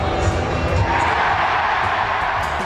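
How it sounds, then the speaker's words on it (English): Crowd at a hockey arena cheering for a little boy named George, a steady loud roar of massed voices with scattered shouts running throughout. "the crowd couldn't get enough, delivering ever-growing cheers for little George"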